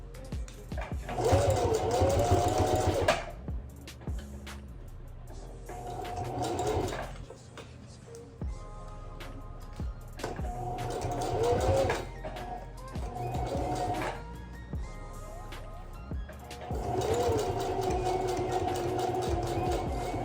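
Sewing machine stitching a flat closure unit, running in several bursts of a few seconds each with pauses between, close and fairly loud, with light handling noise in the gaps.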